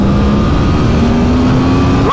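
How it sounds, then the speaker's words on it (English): Engine of a 2022 Aprilia Tuono V4 motorcycle, its 173-horsepower V4 droning loudly and steadily with a slowly rising pitch over about two seconds, close by and without talk. "this is one of the all-time great road engines in terms of noise, performance, tractability and smoothness"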